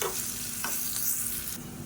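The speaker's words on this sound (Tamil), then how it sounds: "இப்போ இந்த வெங்காயம் வந்து நல்லா வதங்கணும்" Onions sauté in coconut oil in a pan, a soft, steady sizzle heard close up with a few faint stirring scrapes, and no voices.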